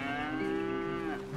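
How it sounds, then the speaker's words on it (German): A cow moos in Red Dead Redemption 2, one long, clear, loud low call with a rich harmonic tone, alone on a farm with no voices over it. "Ja, das war eine brave Kuh."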